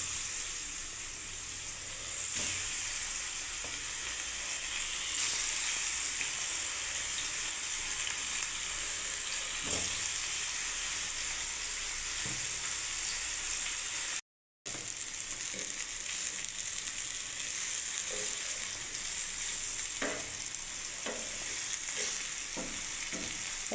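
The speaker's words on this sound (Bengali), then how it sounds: "দেখুন তেল গরম হয়ে গেছে। আমি তাওয়ার মধ্যে ভাজবো বন্ধুরা" Pineapple pieces fry in hot oil on a flat tawa, a steady soft sizzle and hiss running throughout with occasional stirring clicks and faint pops, cut by a brief dropout midway.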